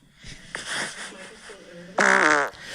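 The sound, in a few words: fart with a harmonizing, trumpet-like sound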